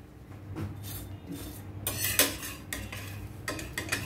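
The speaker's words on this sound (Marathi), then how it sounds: "आपण याला थोडस तेल लावून घेऊया. तुम्ही तेलाच्या ऐवजी बटर लावू शकता, तूप लावू शकता आणि छान शेकून घ्यायचं आहे." Spicy puran poli flatbread roasting with oil on a pan, heard as soft scraping and clinking of a spatula or utensil against the pan, irregular light taps and rubs at low volume, no voices.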